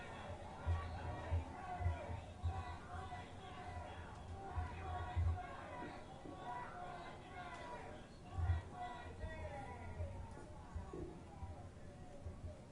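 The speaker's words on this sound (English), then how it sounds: "You can see the change in the energy level in the crowd." A demonstration crowd murmurs and chatters steadily, with its energy swelling and easing in waves and a few low thumps, heard from a distance and fairly faint.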